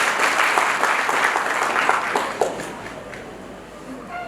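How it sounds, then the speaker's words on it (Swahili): Applause at an official government gathering in Songwe region, Tanzania, a burst of clapping from a crowd that starts fairly loud and fades away toward the end. "Naomba mpigeni makofi mengi sana."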